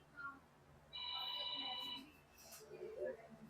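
Landline telephone ringing with a single electronic ring burst lasting about a second, fairly quiet, followed by faint voices talking.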